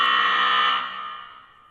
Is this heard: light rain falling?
no